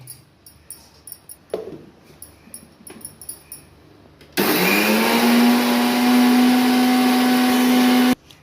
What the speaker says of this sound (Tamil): இதை அப்படியே கொஞ்சம் நைஸாக அரைக்கணும்